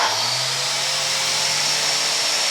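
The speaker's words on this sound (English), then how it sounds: "We're pushing down nice and firmly on our biscuit machine. Hold it nice and tight and plunge it." A biscuit joiner plunge-cutting into a wood panel: a loud, steady high-pitched motor whine with a cutting rasp, held evenly throughout at close range, no talk.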